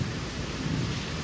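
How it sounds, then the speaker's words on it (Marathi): A village monsoon downpour, the first rain of the season, roars as a steady, heavy wash of rain with a low rumble of thunder rolling under it, continuous and loud throughout. "गरजतंय पण खतरनाक"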